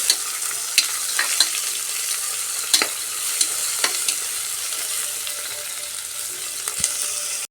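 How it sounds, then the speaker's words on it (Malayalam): Onion and grated coconut fry in a pan for kalathappam, giving a steady close sizzle broken by sharp scraping clicks of a spoon stirring now and then. "ഉള്ളി തേങ്ങയൊക്കെ ഇപ്പോൾ നന്നായി മൂത്ത് വന്നിട്ടുണ്ട്"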